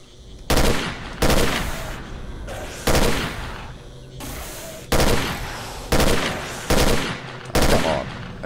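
Gunfire in the video game Stalker: Call of Pripyat, with seven or eight loud, sharp single shots spaced about a second apart, each followed by a short echoing tail.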